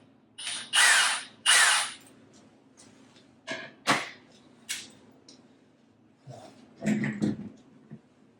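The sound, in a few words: drilling holes with long drill bit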